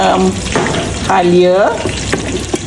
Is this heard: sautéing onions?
yes